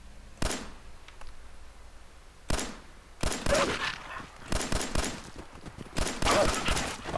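Gunfire in the Fallout 4 video game as dogs are shot: sharp single shots at first, then rapid clustered bursts of firing, loud and close.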